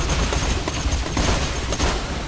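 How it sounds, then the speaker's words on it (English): A launcher rifle firing in Borderlands 2, a dense, loud, continuous barrage of overlapping shots and blasts with no pause across the whole span. "I should try out my new launcher rifle"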